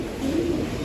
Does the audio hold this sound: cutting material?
no